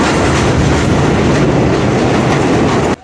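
Sukkur Express 145 Up passenger train rolling past loudly and close, a continuous rumble with steady clickety-clack of wheels over rail joints, cutting off abruptly just before the end.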